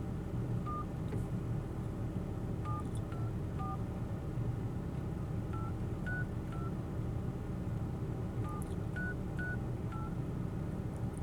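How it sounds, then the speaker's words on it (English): Touch-tone buttons pressed on a new phone while dialing, a series of short beeping tones in irregular groups over a constant low rumble of background noise, with no speech. "I figure out this new phone, this newfangled phone, and what buttons to push"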